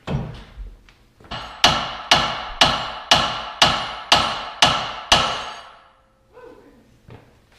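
A hammer strikes a brake caliper to knock it loose, about eight loud, evenly spaced metallic blows with ringing decay, close up, followed by a short clatter and a faint knock.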